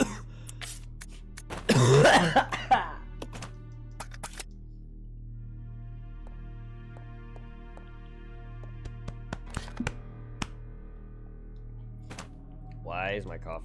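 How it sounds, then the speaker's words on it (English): A person coughs and clears their throat in a short loud burst near the start, close to the mic, followed by quiet room tone with scattered clicks and thumps. "Why has my coughing gotten worse?"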